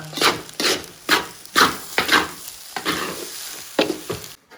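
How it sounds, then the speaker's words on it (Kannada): Fried rice with Maggi masala being stirred in a pan: a steady run of scraping, rubbing strokes over a soft sizzle, about ten distinct passes in a loose rhythm, close and clear, with no voices. "ಸೊ ಇವಾಗ ಮಿಕ್ಸ್ ಮಾಡ್ತೀನಿ ಫ್ರೈಡ್ ರೈಸ್ನ"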